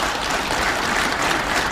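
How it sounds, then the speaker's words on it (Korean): Lecture audience applauding, a dense, even wash of many hands clapping that holds steady throughout. "박수 한번 주십시오."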